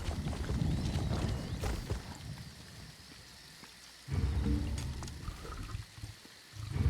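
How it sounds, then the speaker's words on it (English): Rain in the game Elder Scrolls Online, a steady hissing downpour in two loud stretches separated by a quieter lull, with no speech. "It is starting to rain though"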